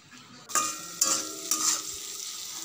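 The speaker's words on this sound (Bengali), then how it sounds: "শুধু একটু পাঁপড় আর পাঁপড়ের জন্য একটু আলু ভেজে নিচ্ছি।" Potatoes and papad frying in oil in a pan, with a steady hissing sizzle and three sharper bursts as pieces are stirred or turned, close and fairly loud.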